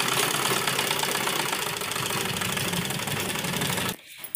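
A sewing machine stitches along a blouse neckline, a loud continuous close mechanical whirr with a fast even rhythm that stops abruptly near the end.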